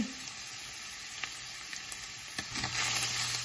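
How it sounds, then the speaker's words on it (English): Seasoned food with garlic powder, parsley, cayenne, salt and pepper sizzling steadily in a pan, with a few faint scraping taps of a quick stir and the frying swelling a little louder toward the end. "Give that a quick stir."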